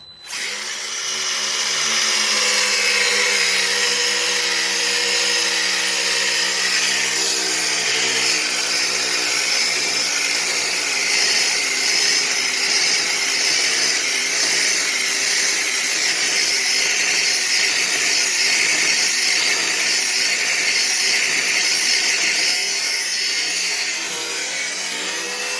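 High-pitched electric motor of a DragBug revving hard during a burnout test, a loud continuous whining drone that starts abruptly and holds steady throughout, with no talking.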